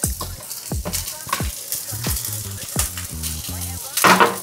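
Chopped onions sizzling in a pan for vegetable fried rice, a bright frying hiss under repeated utensil knocks and rhythmic clacks, with a louder burst of sizzle near the end.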